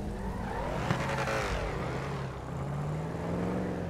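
A car in GTA 5 accelerating away, its engine revving up in rising, then steady tones, moderately loud with no talk.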